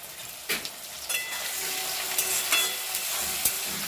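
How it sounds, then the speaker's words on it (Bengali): Onion and tomato with salt being stirred in a hot frying pan for a jackfruit kalia, a steady close sizzle broken by several scraping stirs, with no voices. "নুন দিয়ে এটাকে একটু ঘেটে নেব"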